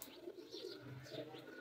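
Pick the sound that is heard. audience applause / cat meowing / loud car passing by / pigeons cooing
pigeons cooing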